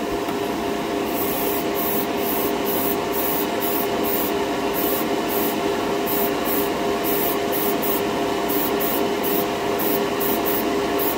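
A Harder & Steenbeck Evolution airbrush with a 0.4 needle sprays primer in a steady, loud, close hiss, with a faint rapid pulsing running through the whole spray.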